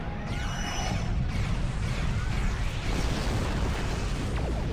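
A Mogai warship blows apart in the Star Trek Online space game, a loud, dense roar of explosion and crackling debris filling the whole stretch without pause, with laser-like streaks and whooshes through it.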